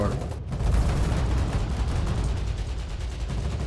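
Gunfire from a battle in the video game Foxhole: a dense, rumbling barrage of shots and booms blends into continuous combat noise, with a sharp burst near the start.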